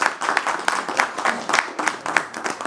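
Audience applause at an Urdu-Hindi poetry evening held as a birthday gathering, with steady clapping rising and falling in bursts, close and moderately loud with no talking.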